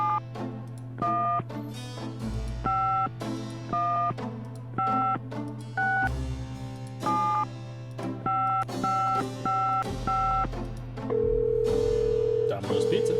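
A telephone in the Gabriel Knight: Sins of the Fathers video game dialing an international number, steady dial tone broken by a series of crisp touch-tone beeps in short groups, then a ringing signal on the line.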